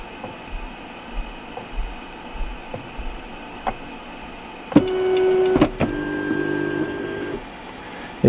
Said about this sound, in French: je vais la déplacer manuellement à partir du menu.